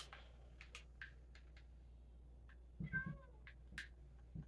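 A calico cat in the video game Minecraft gives a short, faint meow against quiet in-game background ambience, with a few soft clicks around it.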